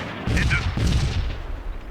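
Artillery strike in the WWII wargame Combat Mission: Rome to Victory, two loud close booming blasts with rumbling low-end, the second followed by a decaying roll into background noise.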